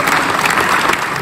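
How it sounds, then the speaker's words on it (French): A crowd at a Vendée Globe event in Les Sables d'Olonne bursts into dense, steady applause for skipper Yannick Moreau, loud and close with no talk over it. "applaudissements pour Yannick Moreau."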